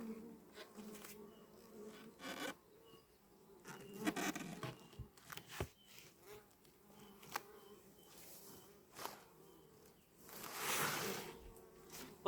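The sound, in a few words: honeybees buzzing at an open hive during inspection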